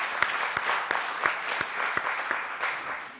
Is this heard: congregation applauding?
yes